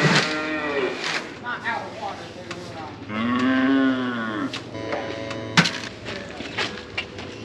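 Cattle on a working farm moo repeatedly at close range, long drawn-out bellows rising and falling, with a few sharp knocks and clatters in between and no talking.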